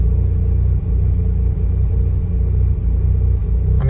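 Close, steady low rumble of a Mazda RX-8 rotary engine settling toward idle during an idle relearn procedure, continuous with slight unevenness and no voices.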